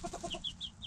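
Hens clucking inside a chicken coop, a flurry of short, overlapping squawks and higher agitated calls from several birds close by, with no talk.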